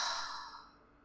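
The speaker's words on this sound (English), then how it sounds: "So if you take a deep breath with me" A single deep breath, a soft airy exhale that is loudest at the start and slowly fades over about a second, close and alone with no talking.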